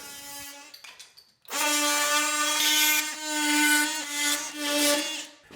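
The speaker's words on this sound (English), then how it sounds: "We're going to cut back all of these trims nice and flush." An oscillating power tool cuts interior door trim flush, its high, buzzing whine starting after a few short preliminary bursts and holding steady while rising and falling slightly as the blade bites into the wood, close and loud.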